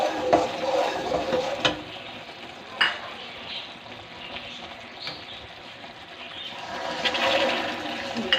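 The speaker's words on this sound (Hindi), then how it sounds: "ये हमारी चाश पकना शुरू हो गई है।" Sugar syrup for sweet zarda bubbles and sizzles in a pot, a steady frothy simmer with occasional sharper pops and clinks.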